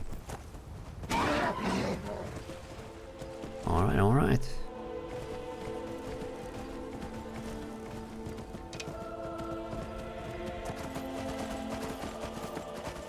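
Horse neighing and whinnying in the video game Skyrim, two loud bursts near the start then a steady background of game ambience, with brief speech from a player.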